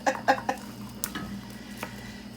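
Chopped onions and celery go into a pan for a cauliflower and potato shepherd's pie, giving a few sharp clatters of utensil on cookware and a faint sizzle afterward, close and brief.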